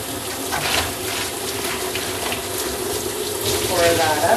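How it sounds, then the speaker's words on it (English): Hot water runs steadily from a tap into a plastic winemaking bucket, rinsing it: a continuous broadband splashing rush, close and fairly loud throughout, with a brief gurgling change in tone near the end. "I'm just going to give this a final rinse with some hot water."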